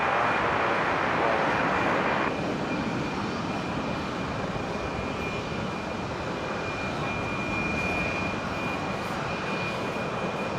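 A KC-135 jet on landing at Brisbane International Airport gives a steady, broad engine roar throughout, a little louder in the first two seconds, with a thin high whine running across it.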